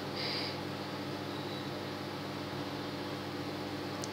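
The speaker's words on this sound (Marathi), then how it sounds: "इथे मी गॅस पेटवला आहे आणि हे वांगं भाजायला टाकलं आहे" A gas stove burner on a low flame roasts a whole eggplant, giving a steady soft hiss and rush that holds evenly and close throughout with no talk.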